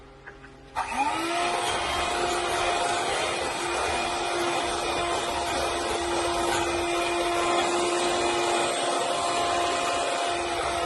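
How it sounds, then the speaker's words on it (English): An electric hand mixer beats cake batter for a chocolate cake, starting with a short click and then whirring at a steady, loud motor drone close by for about ten seconds, with no talking. "You can also mix it by hand, but I prefer using the hand mixer."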